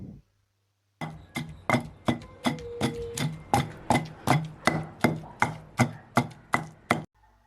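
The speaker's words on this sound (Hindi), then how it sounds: "लहसुन अदरक के पेस्ट में एक चम्मच नमक शामिल करेंगे और इसे कूट लेंगे" Steady rhythmic pounding, about fifteen firm thuds in a row from a mortar and pestle crushing garlic and ginger with salt into a paste, close and even-paced, with no talking.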